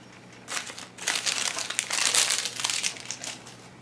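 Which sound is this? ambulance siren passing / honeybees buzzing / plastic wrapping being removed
plastic wrapping being removed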